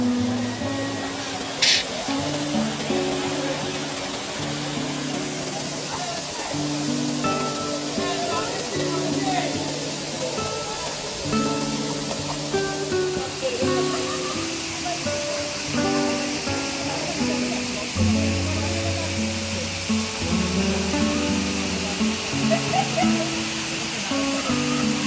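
Jhorjhori waterfall on a forest trekking trail, a steady broadband rush of falling water filling the whole stretch, with voices and background sounds layered over the continuous roar.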